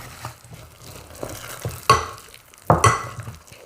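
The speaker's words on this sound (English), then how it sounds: "And mix gradually. I'm mixing first with a spoon." Shortbread crumbs being mixed gradually with a spoon in a bowl, quiet scraping and crunching with a few louder scoops and knocks, close by.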